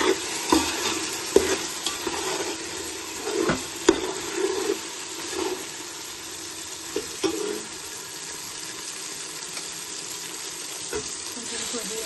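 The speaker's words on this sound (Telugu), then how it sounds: "టమాటాలు కూడా ఇలా వేగిన తర్వాత 1 కప్పు పచ్చి బఠానీ వేసుకుంటున్నాను," Tomatoes and fresh green peas frying in oil for gongura chicken biryani, a busy sizzle with frequent clacking stirs early on, settling into a steadier, quieter fry.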